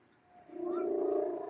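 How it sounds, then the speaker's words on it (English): A formerly feral house cat purrs steadily up close, a low continuous rumble that swells in after a quiet start and holds on without any talk. "He just starts purring."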